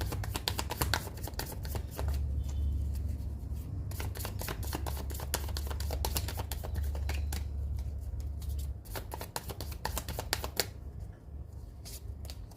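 A deck of tarot cards is cut and shuffled up close: rapid flicking, riffling clicks run almost without pause over a low steady hum, and no one speaks.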